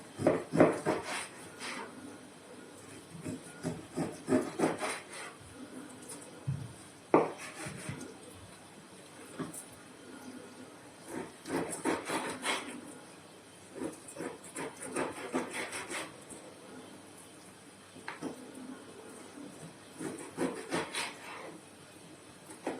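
A knife cuts pork into small cubes on a cutting board, giving repeated soft chopping taps and scraping rubs at an uneven pace, close and fairly quiet, with no talking.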